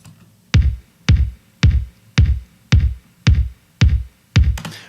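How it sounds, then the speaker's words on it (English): Eight punchy kick drum hits from a sampled 1980s Linn drum machine land in a steady even beat, each a deep booming thump with a quick decay, alone and close. "Started off as just a kick that sounded a bit like this."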